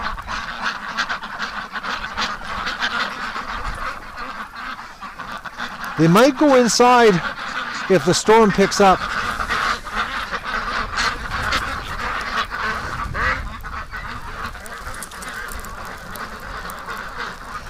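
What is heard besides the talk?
ducks quacking outdoors in a winter snowstorm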